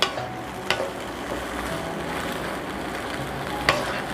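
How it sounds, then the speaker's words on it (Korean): Shishito peppers stir-fried in a pan give a steady low sizzle throughout, broken by a few sharp scraping clicks of the utensil against the pan, with no voices. "이거를 고추 먼저 볶아줍니다"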